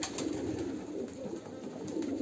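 Soft, continuous low cooing of pigeons, a steady murmuring rumble with no pauses, fairly close.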